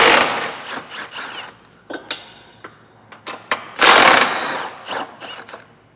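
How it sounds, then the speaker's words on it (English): An 18mm socket wrench ratchets off the bumper beam nuts on a 2024 BMW X7, close bursts of clicking and whirring separated by short pauses. "Using an 18mm socket, we're going to remove the 8 nuts that are holding on our bumper beam."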